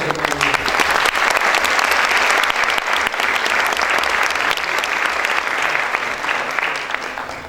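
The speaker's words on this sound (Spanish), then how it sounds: "Les pido que le demos también a él un aplauso" An audience at a university architecture talk claps loudly and continuously, a thick wash of applause that holds steady before easing slightly toward the end.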